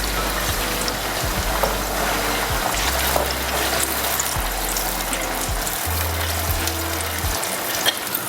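Soaked yellow peas go into a pan of hot oil for raw tomato, garlic and ginger pickle, giving a steady close sizzle and frying hiss with light stirring and a low hum underneath.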